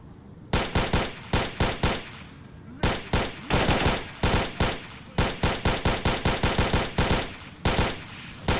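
Gunfire in the S.T.A.L.K.E.R.: Shadow of Chernobyl video game: loud repeated bursts of rapid automatic shots in uneven clusters, separated by short pauses, lasting throughout.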